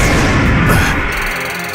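Link Turret continuous trap card in Yu-Gi-Oh Duel Links fires with a loud, close booming blast and a crashing burst that fades out over a second or two, with no talk.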